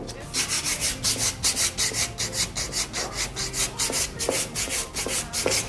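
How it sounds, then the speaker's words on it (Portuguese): A painted piece being sanded by hand with fine 220-grit sandpaper for a final finish, rapid rhythmic back-and-forth rasping strokes, close and even, with no talking. "Agora eu trabalho com a lixa número 220, que é para dar o acabamento final na peça."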